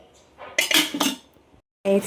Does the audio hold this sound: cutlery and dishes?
yes